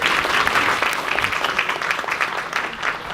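Audience applause fills an awards dinner for a local chamber of commerce, a steady dense clapping from a roomful of people that holds at an even level throughout, with faint voices mixed in.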